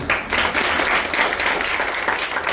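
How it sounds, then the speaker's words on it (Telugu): A group of children claps together loudly and steadily for a couple of seconds at an Easter event, a dense burst of applause from many small hands close by. "ఒకసారి పిల్లలందరూ మీ యొక్క తల్లిదండ్రులు అభినందించి చప్పట్లు కొట్టండి"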